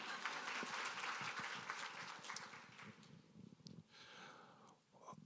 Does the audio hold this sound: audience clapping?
yes